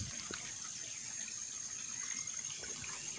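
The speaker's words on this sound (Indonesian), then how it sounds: "kini tiba kita di sebuah aliran air atau parit" Water flowing in a small stream or ditch, a steady faint gushing trickle, continuous and even, with no talk.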